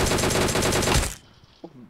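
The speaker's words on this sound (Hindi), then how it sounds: "बैठ के फायर किया था उसने" Rapid automatic gunfire from a bot in the battle-royale game BGMI, a loud continuous burst lasting about a second before cutting off to near silence with a faint thud.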